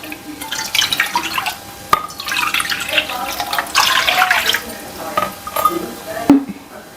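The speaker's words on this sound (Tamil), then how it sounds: "இப்போ நான் 3 கப்பு அளவு தண்ணி சேர்த்துக்க போகிறேன்." Three cups of water pour and splash into a kadai pan while cooking for a Vinayagar Chaturthi festival, with clinks and drips of the metal vessel, loud and close throughout.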